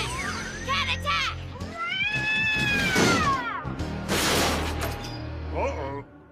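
A cartoon robot cat meows in long, wavering, high-pitched cries and attacks with screechy yowls and a scuffle, loud and close, with excited voices mixed in.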